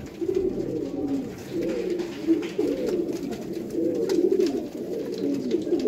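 Several breeder pigeons cooing close by, with repeated low rolling coos that overlap in a steady rhythm and no one talking over them.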